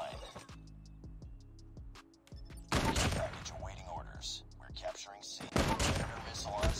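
Gunfire in Call of Duty Mobile, with bursts of rapid shots and sharp impacts layered over dense game effects and a player talking throughout.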